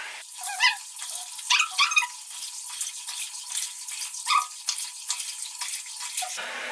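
Water from a running sink tap splashes in irregular bursts as a face product is rinsed off, close and moderately loud, with brief gurgles and drips between the splashes and no talking.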